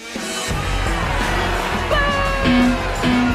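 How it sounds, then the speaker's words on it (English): A large crowd in a video game boos in a steady, loud wash of noise, with electronic game tones and music sounding over it. "They're booing, dude."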